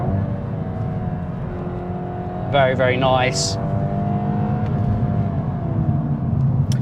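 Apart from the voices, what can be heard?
VW Golf GTI Clubsport 45 engine accelerating while driving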